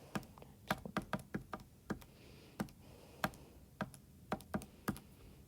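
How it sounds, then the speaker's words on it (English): Numbers are typed on a keyboard, with sharp distinct key clicks spaced unevenly, some in quick runs and others alone, close to the microphone over a faint room hiss with no speech. "I'm going to type it in one more time."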